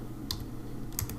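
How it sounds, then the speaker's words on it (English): Typing on a computer keyboard, a few quiet clicking keystrokes in short bursts, close and faint with no talk. "we're just going to type"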